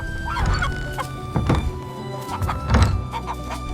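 Heavy barn doors thud shut and are secured on a farm as wind picks up, giving several loud, close wooden thunks at irregular intervals, with faint animal sounds in the background.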